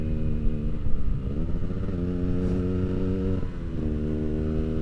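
A two-stroke motorcycle engine idles and revs with a rough, buzzing drone, pitch dipping and rising a couple of times, steady and close.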